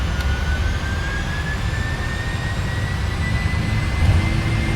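PMDG 747-400 jet engines spool up in the Prepar3D flight simulator: a steady, loud, broadband roar with a faint whine that rises slowly in pitch, continuing alone without talk.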